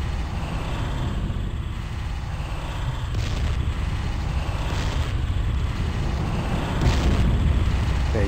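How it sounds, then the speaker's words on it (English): Grenades going off in Warhammer 40k Fire Warrior: a few dull booms rising over a steady loud rumble of game noise, spaced a couple of seconds apart. "two, three grenades that guy took"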